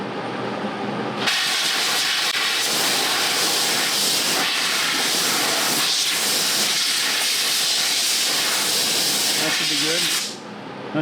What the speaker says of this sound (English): go ahead and hit that with the air hose